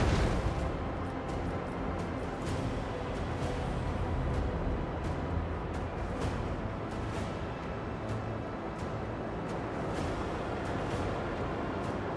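Macro cannon fire in the Warhammer 40000: Rogue Trader game during a space station raid roars as a sustained, heavy barrage, a continuous loud rumble with repeated sharp cracks layered on top.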